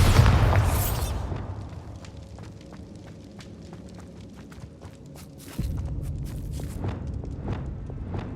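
A Bombarda blasting spell in Hogwarts Legacy, heard as a heavy, dense burst at the start that fades into a low rumble, then a second deep thump midway, with scattered clicks and debris-like ticks throughout.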